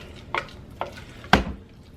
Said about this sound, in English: We're going to dump that right out into our casserole dish.